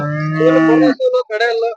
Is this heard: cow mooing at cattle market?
yes